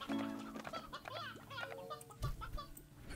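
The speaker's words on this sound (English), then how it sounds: "A rooster." A rooster in the video game Slime Rancher gives a run of short, close clucks and warbling calls over a quiet game background, ending with a brief louder thump.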